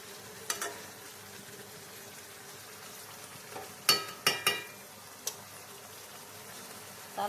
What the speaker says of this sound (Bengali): এইভাবে চিকেনগুলো আমি ভালো করে কষান করেই আসি।